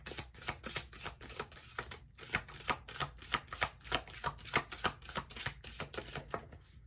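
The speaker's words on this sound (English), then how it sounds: "So let's get your oracle card out." Close, soft riffling and tapping of a deck of oracle cards being handled and shuffled, a rapid irregular run of papery slaps and flicks continuing steadily with no talk.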